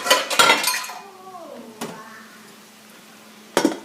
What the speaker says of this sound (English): I'm going to put the lid on it to help speed up the cooking process.